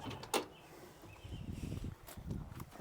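The door of a vintage 1970s Mopar car swinging open: a faint latch click, then a soft, low rumbling movement, heard close but quietly with no talk.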